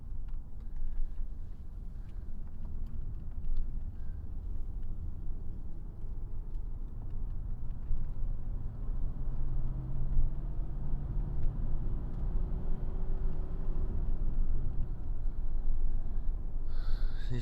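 Steady low engine drone and road rumble from a Mercedes-Benz W126 cruising on an evening drive, even and continuous from inside the cabin with no talk.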